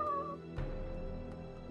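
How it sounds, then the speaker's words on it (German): A male house cat gives a short meow near the start, close and fairly clear, followed by a quieter indoor room background with no talking. "Der Kater will meine Aufmerksamkeit"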